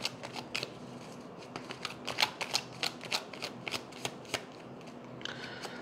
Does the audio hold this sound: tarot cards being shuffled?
yes